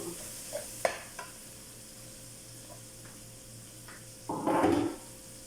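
Chicken for adobo cooking in a pan, a faint low sizzle with a few soft clinks and a brief louder burst of stirring near the end.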